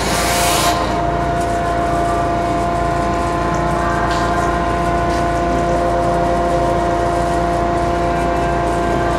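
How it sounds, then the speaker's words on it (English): An Ohmiya centerless grinder powers up, its hydraulic pump kicking in with a brief hiss and then droning loudly and steadily with a deep hum and whine, close by. "Okay, we'll fire the machine up and"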